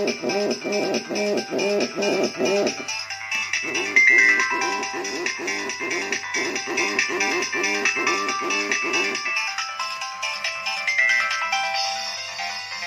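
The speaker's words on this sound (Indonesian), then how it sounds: "buat ringtone-nya kalau menurut saya sih ini masih nampil dan ini udah cukup keras" A bright electronic Nokia 1200 ringtone plays a repeating melodic pattern, loud and close, pausing briefly and then continuing in a higher, sustained phrase.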